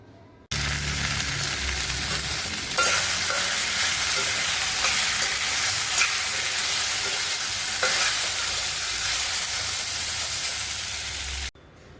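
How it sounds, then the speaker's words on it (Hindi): Jakhiya seeds, garlic and red chilli fry in hot oil for a tempering in a home kitchen in Uttarakhand, giving a loud, continuous sizzle that holds steady for about eleven seconds, close up and with no talking. "ये जखिया, ये लहसुन और ये लाल मिर्च, इन्हें भूनती हूँ पहले"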